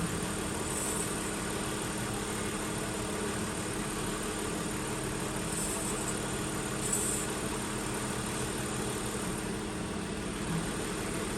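Warmed-up Holden VT Commodore engine idling steadily at close range, a continuous even drone with faint vibration and no speech over it.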